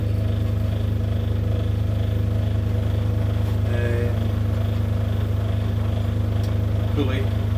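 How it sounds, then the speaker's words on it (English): A Myford ML7 lathe runs with its countershaft pulley turning, giving a steady low mechanical hum with constant tonal drone throughout, close and even, with a few faint higher clinks. "there we have the main pulley, countershaft pulley is now rotating, and we'll engage the countershaft"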